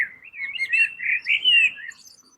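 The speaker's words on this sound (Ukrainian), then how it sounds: "Послухайте оцей спів пташок." A songbird sings from a street lined with low apartment buildings, giving a close, clear run of bright chirps and warbled phrases over about two seconds before fading, with no other sound around it.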